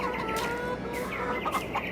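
Chickens in the video game Farming Simulator 22 cluck and chatter in a busy, continuous burst, several birds close together with no talking.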